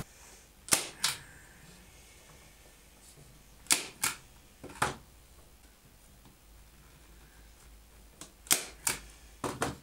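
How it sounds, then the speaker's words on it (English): Staples driven one after another through fly screen into a wooden frame for a temporary bug screen, giving sharp, close snapping clacks in small clusters of two or three with quiet gaps between them. "To hold it in place, I'm using staples."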